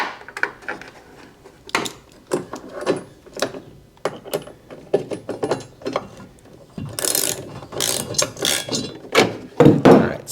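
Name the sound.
ratchet tightening 19mm nut on bed channel stiffener bolt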